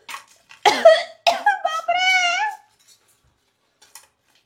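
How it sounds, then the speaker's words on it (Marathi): A few sharp coughs in a home kitchen during cooking of oil-free potato fries, close and loud in two quick bursts, followed by a raspy drawn-out vocal sound and faint clinks of dishes. "पोटॅटो म्हणजे मला खूपच खोकला येतं."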